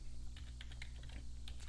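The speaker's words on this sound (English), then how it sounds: "Then you type Jupyter notebook." Keys tap on a computer keyboard as a command is typed into a Windows terminal, a quick irregular run of light clicks, faint and close over a steady low electrical hum.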